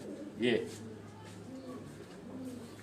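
A bird coos once, briefly and fairly close, from breeder pigeons kept on a rooftop, followed by a low steady background hum and faint murmuring.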